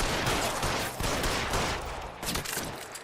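Dense, sustained gunfire from a shootout in the video game L.A. Noire, with rapid overlapping shots that stay loud throughout the short stretch and have no talking.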